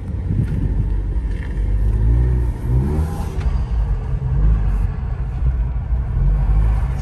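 A Ford Ecoboost car drifting in the snow makes a loud, close engine drone that rises and falls with the throttle, while low-pitched voices talk over it partway through.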